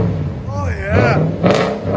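A 2017 Toyota Tundra with a 5.7L V8 and straight-pipe exhaust revs up close, its rising then falling engine tone growing loud before a second burst, with a voice talking over it.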